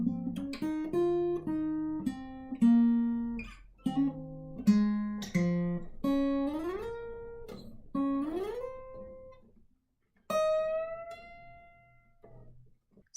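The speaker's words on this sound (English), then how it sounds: "the guitar solo played slowly sounds like this." Acoustic guitar plays a slow solo line from a song, with single plucked notes, sliding bends up into pitches and sustained tones that fade, ending on a last ringing note after a short pause.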